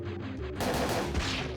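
Gunfire in the Parasite Eve 2 video game shooting exploding enemies, a loud sharp blast that breaks into a sustained crashing burst of noise lasting over a second, with no talking.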